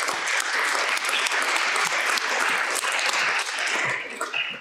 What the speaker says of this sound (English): So applause for Stephanie Archangel